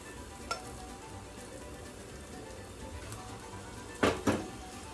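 Leftover zucchini flower batter fries in shallow oil with a soft, steady sizzle and faint crackle, broken by a couple of louder clacks near the end, with no talking.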